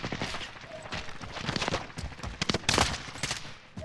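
Gunfire in the video game Call of Duty: Modern Warfare, rapid overlapping bursts of automatic shots and sharp single cracks, loud and close, continuing throughout.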